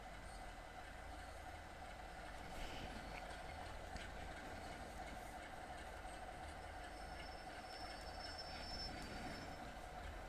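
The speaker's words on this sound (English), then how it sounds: "There's my train." Oil train arriving in a simulated rail setting near Blackpool, heard as a steady low rumble of rolling stock with faint wheel squeal and scattered clicks, constant and fairly distant.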